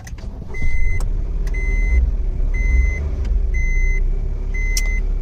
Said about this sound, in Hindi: अभी हम गाड़ी को करते हैं ऑन